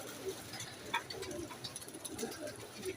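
A pigeon coos softly, with low repeated calls against faint outdoor background noise and scattered chirps.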